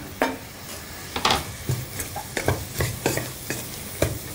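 Leeks fry in a pan while a utensil stirs them. A steady sizzle runs under repeated scraping clacks that come at an uneven rhythm, close and moderately loud, with no talking.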